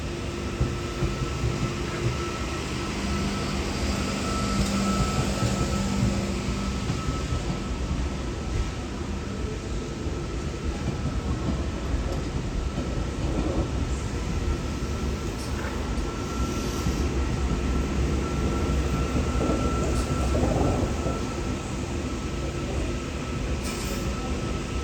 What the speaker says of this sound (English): we have more V-sets coming into Central, which is the station I'm at